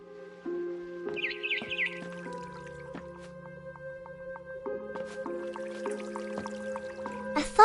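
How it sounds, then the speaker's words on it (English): Barn swallow chirping outside a window in the video game What Remains of Edith Finch, a short high chirping burst over a layered ambient musical backdrop of sustained tones and faint droplet-like plinks. "Then I heard chirping outside my window."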